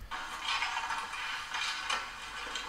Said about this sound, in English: like the sound of him scraping into the oven there